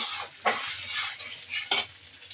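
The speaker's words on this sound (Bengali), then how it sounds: "মশলাটা কষিয়ে নিচ্ছি।" A spice paste of onion, green chili, turmeric, chili, salt and cumin is stir-fried in a pan, giving a soft sizzle broken by two sharp scrapes of a spoon against the metal.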